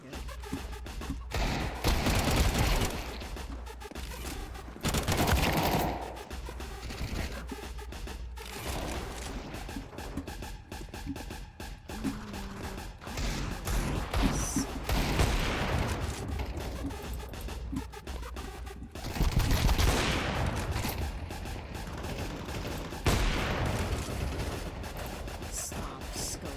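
Sustained gunfire in a video game shooter, dense volleys and rattling bursts rising and falling through a loud, crowded battle soundscape with little talk.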